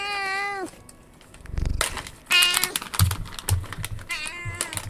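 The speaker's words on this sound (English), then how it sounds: "she always meows when I have food for her" Domestic cat meowing for food, several clear close-up meows spread through the clip with brief mechanical tapping and handling noises between them.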